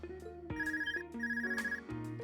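A telephone rings in a video game, a bright electronic trilling tone repeating in a steady pattern over low sustained music, loud and close.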